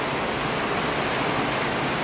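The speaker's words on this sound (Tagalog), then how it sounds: "lakas ng ulan sa amin" Heavy rain pours down in Javier, Leyte, a dense, even roar of falling water that runs unbroken and fairly loud throughout.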